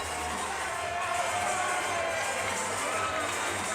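A basketball crowd at the Hutton Sports Center during a SCIAC final keeps up a dense, steady roar of cheering and shouting, loud and sustained throughout with no distinct pauses.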